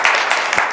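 An audience at a CEO business forum breaks into steady applause for a speaker, dense clapping filling the room at close range for a brief stretch.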